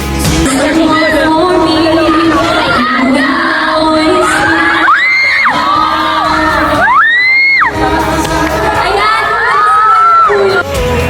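A loud crowd of students at a university screaming and cheering continuously, with high shrieks and whoops rising above the din.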